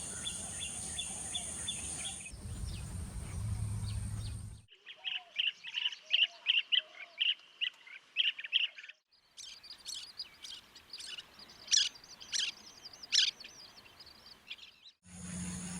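Waterbirds call at Thalangama Wetland, part of Colombo's Ramsar wetland, where Asian openbills nest. Bursts of chirps and squawks come in fast, uneven runs, fairly close and clear over a soft background hum.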